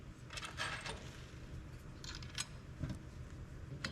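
A 13mm socket on a ratchet clicks in short bursts while bolts are tightened from below during an AirDog 165 lift pump install, faint metallic ratcheting with small mechanical clatter and no talk.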